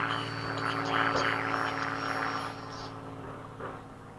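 A Freewing 90mm EDF RC jet, an F-15 or F-22 model, whines steadily overhead with a sustained tonal ducted-fan hum that is louder at first and then eases off as it passes.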